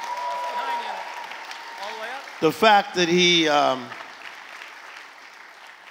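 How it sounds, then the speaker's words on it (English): A conference audience at a keynote gives Ray Lewis a standing ovation. The clapping is a soft, steady wash beneath a low hum, and someone speaks briefly over it. "Can we give Ray Lewis a big clap?"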